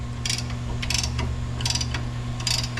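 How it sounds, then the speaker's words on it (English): A brake caliper piston depressor tool being ratcheted while wedged between a leaf spring and a tire, giving four short bursts of metallic clicking spaced through a steady background hum. "using the ratcheting mechanism of the tool"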